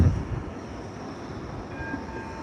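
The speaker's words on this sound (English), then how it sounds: "That's the elite tram." A Blackpool tram, the elite type, passes with a steady rumbling roll and faint high squeals from the rails, moderately close and heard alone without talk.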